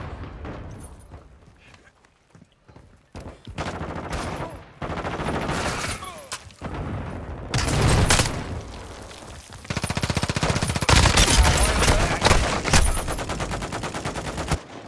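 Gunfire in the video game Call of Duty Modern Warfare 2, with loud bursts of automatic fire and sharp shots that build into heavy sustained fusillades, and players talking over the fighting.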